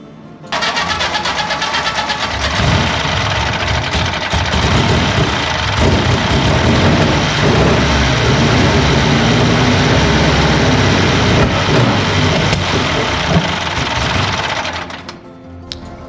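A 1935 Indy 500 race car engine cranks over and catches, then settles into a loud, steady idle with a fast, rough mechanical clatter that runs for about fourteen seconds before cutting off.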